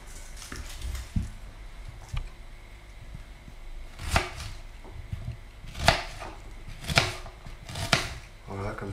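Peeled onions being coarsely chopped with a knife on a cutting board, a series of sharp, close knocks at an irregular pace, the later strokes louder, with faint talk in between.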